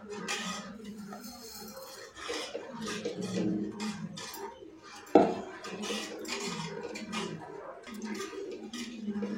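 Ground rice and lentil batter whisked in a bowl for mothagam kolukattai: irregular clinking and scraping strokes of a whisk against the bowl, fairly close and quiet, with one sharper knock midway.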